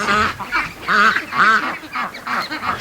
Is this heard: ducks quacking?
yes